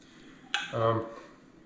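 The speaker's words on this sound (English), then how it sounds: "Use the spatula to get that all out." A spatula scrapes thick tomato soup out of a metal can: a sharp scraping click followed by a brief, wet, low smear of the soup sliding out, close and fairly quiet.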